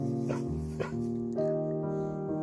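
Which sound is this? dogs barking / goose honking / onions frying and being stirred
dogs barking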